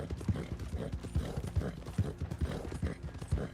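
Horse hooves in Red Dead Online clop in a steady, even riding rhythm, close and moderately loud, with no voices over them.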